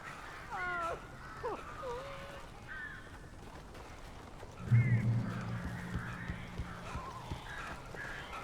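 Crows caw in short, hoarse bursts inside a house with a blocked chimney in the video game Alan Wake, scattered over several seconds against a low, steady ambient hum, with a brief louder thump midway.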